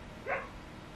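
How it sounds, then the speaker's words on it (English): A single short dog bark, distant and fairly faint, comes from dogs kept outdoors, a brief yelp over a quiet room background. "I have dogs outside."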